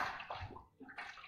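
Water is wiped onto a pipe with a sponge, giving soft, faint splashes and wet swishing in short uneven bursts with a brief pause partway through.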